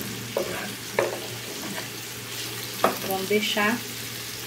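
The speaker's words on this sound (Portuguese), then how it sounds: "Agora eu vou dourar aqui um pouquinho de cebola" Small chopped onion sizzling with sausage in a home frying pan, a steady close crackle broken by a few stirring scrapes, with brief talk over it.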